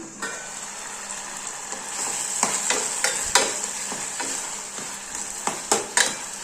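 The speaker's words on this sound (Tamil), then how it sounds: "தக்காளி நல்லா வேகிற வரைக்கும் வதக்கி விடுங்க" Tomatoes sautéing for drumstick sambar, a steady oil sizzle broken by a series of sharp scrapes and clinks as a spatula stirs the pan, loud and close, no talking.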